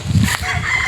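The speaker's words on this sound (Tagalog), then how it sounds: "Dami manok." Chickens at a poultry farm, with a brief, close cluck and squawk heard over faint outdoor ambience.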